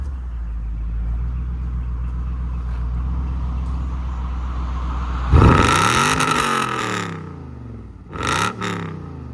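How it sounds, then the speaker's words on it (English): A 1996 Lexus LS 400 with a 4.0L V8 and true dual exhaust idles with a low steady rumble, then revs sharply toward redline in a loud rising roar that falls away, followed by a second shorter blip. "He's gonna redline it."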